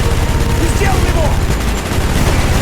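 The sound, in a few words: minigun gunfire in video game Call of Duty: Black Ops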